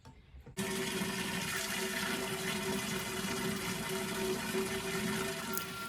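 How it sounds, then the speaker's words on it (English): Water gushes steadily into a DIY fountain pot, beginning abruptly after a brief quiet moment and holding a strong, continuous splashing rush, close up with no voices. "So next I want to fill this with water."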